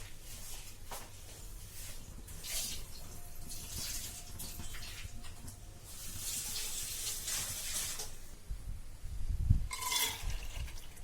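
Running water pours and splashes steadily, with a louder gush near the end as it drains away, as water is drained from soaked, washed lentils.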